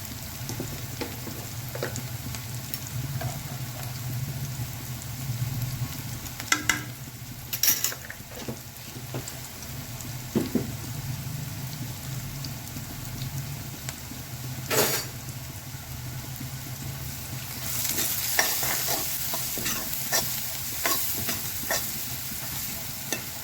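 Red chili powder and turmeric sizzle in a hot pan while a spoon stirs them, scraping and clinking against the metal now and then over a continuous close frying hiss.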